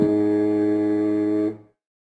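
Ship horn from a toddler educational app: one sustained, loud, rich tonal blast lasting about one and a half seconds, then cutting off into silence.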